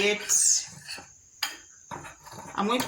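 A utensil scrapes and clinks against a bowl while dry ingredients for an eggless, milk-free chocolate cake are mixed, in a few short irregular strokes with pauses in between.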